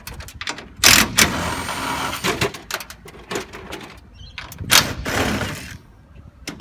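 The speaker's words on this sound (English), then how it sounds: "You need to just undo your hex screws here." Hex screws are undone on the roof hatch of an Aquamate water tank outdoors, giving irregular close metallic clicks, scrapes and rattles of driver and fittings, with faint birdsong behind.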